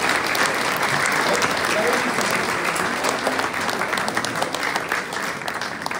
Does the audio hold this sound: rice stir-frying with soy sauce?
no